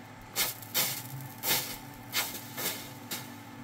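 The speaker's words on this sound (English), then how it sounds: "In the meantime, I'm going to give this a little spritz." Short hissy bursts of a spray bottle misting water onto hot, freshly soldered wire, about six quick spritzes in an irregular rhythm, close and fairly quiet with no talking.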